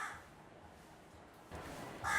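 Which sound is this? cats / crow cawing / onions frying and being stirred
crow cawing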